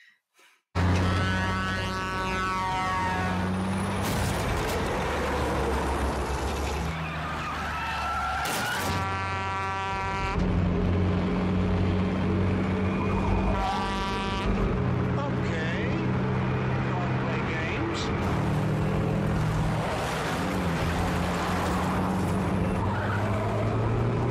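From the 1971 film Duel, a tractor-trailer truck and car roar through a chase, with repeated tire screeches, hissing bursts and grinding engine noise layered over a dense, loud soundtrack across the whole stretch.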